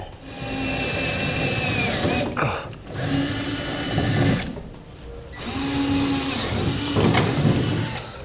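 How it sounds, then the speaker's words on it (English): A power drill whines in several bursts as it bores pilot holes into the metal frame of a 2015 GMC Sierra 3500 pickup, loud and close, with brief pauses between holes. "we'll now drill our pilot holes for our safety chain loops"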